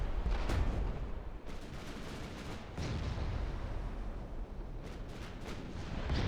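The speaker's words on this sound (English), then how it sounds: "Yeah, getting some torpedo hits." Torpedo hits in a naval warfare video game set in 1960: a dense, loud wash of deep booms and rumbling detonations, continuous with several sharper blasts and no voices.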